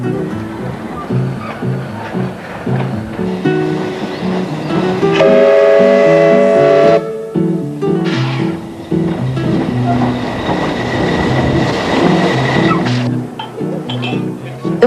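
A Pichi Richi Railway train runs along the line toward Woolshed Flat, with a continuous rumbling, rattling roll and a brief whistle-like tone in the middle, loud and close throughout.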